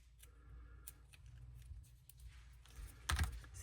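Scissors cutting through the back cover of a miniature dollhouse binder, a few soft crisp snips building to a sharper, louder cut near the end, heard close up with no talking.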